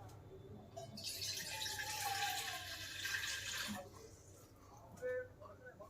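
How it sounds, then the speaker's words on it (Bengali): Water poured from above into a pan of ghugni during cooking, a steady splashing stream lasting a few seconds close by, then trailing off into quieter clinks. "এবার উপর থেকে জল দিয়ে দেবো।"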